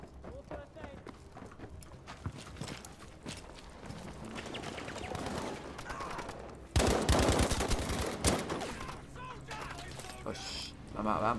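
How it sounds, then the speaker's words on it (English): Battlefield V gunfire in a frantic multiplayer firefight, with dense rapid bursts and sharp shots running throughout and a louder close volley near the end of the stretch, mixed with other game effects and voices. "I love a frantic firefight here."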